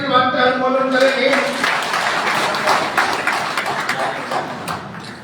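At a district labour and farmers' conference at a BJP office, someone speaks briefly, then the audience breaks into a dense burst of clapping that carries on at a steady level and slowly thins toward the end.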